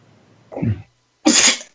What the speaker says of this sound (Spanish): Y estornudea, pero por frío.